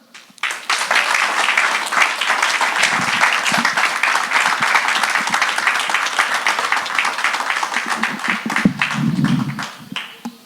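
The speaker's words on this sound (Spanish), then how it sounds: "Así que quiero que reciban con un fuerte aplauso a Steven Polo." Loud, sustained applause from a church congregation, starting abruptly and holding strong for several seconds before fading out at the end.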